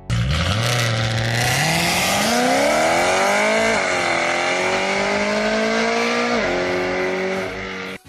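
A high-revving engine climbs steadily in pitch, drops and climbs again in repeated surges, loud and continuous with no voices.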